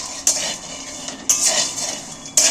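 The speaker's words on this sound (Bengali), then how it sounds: "শুকনো খোলাতেই বাদামগুলো ভাজবো।" Peanuts dry roasting in a pan over a low gas flame, stirred with a utensil that scrapes and clinks against the metal in three sharp bursts over a steady background rustle.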